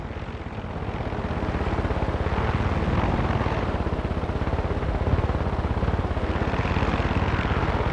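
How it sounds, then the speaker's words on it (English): A helicopter in the Far Cry 6 video game, its rotor thumping in a fast, steady beat under a broad engine roar, loud and constant throughout. "So, how do these farmers get a helicopter?"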